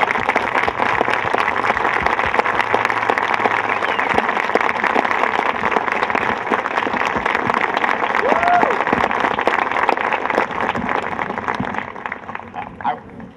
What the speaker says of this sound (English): So if you could give him a round of applause, please.